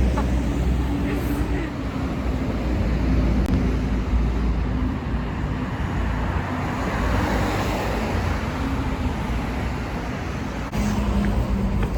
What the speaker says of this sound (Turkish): burası çok gürültülü ya. Hiç sevmiyorum bu arabaların böyle şey olmasını